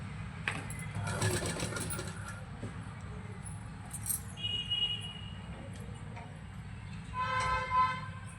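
A sewing machine stitches a baby frock in steady running bursts with a low mechanical hum, fairly close, broken by brief higher tones and light handling clicks.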